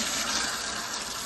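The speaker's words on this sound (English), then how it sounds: "Water will come out from this plastic tube and into a wasted bucket." Water gushes steadily from a plastic tube into a waste bucket while a new water filter for an espresso machine is flushed, a loud, continuous rushing splash with no speech.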